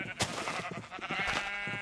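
Sheep in Minecraft Feed The Beast give short, faint bleats, a few quick nasal calls over a quiet background.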